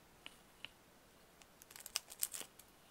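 A few sparse, faint scissor clicks give way to a quick cluster of crisp snips and crunches as blades cut through layered tissue paper, green mesh, cardboard and shopping-bag paper, close and quiet.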